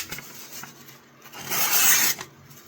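A Craftsman hand tool cuts with a dry, raspy scraping that swells into a louder, steady burst for about a second near the middle, with quieter rubbing strokes before and after.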